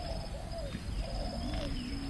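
Pigeons cooing outdoors in Kuala Lumpur, several soft low repeated coos close by over steady background noise and faint chirps, with no talk.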